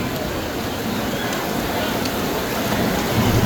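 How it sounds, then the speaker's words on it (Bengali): Heavy rain pours steadily in a thunderstorm around the Ramna Kali temple grounds in Dhaka during Durga Puja, a dense, constant hiss with no letup, close and loud throughout. "দেখতে পাচ্ছেন কীভাবে বৃষ্টি হচ্ছে, ঝড় হচ্ছে অনেক জোরে জোরে"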